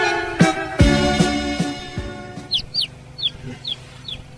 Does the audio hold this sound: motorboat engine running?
no